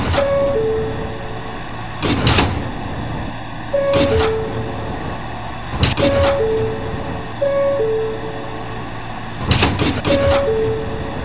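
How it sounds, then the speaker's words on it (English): An R211A subway train's doors at a station, probably on the W line, close and reopen in repeated sequences: two-tone chimes, a rush of motion, then a loud thud roughly every two seconds, over steady platform rumble. "Stand clear of the closing doors"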